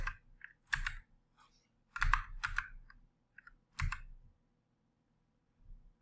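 Keys on a computer keyboard are pressed during video editing in Adobe Premiere, producing a few sharp, close clicks in small irregular bursts separated by short quiet gaps.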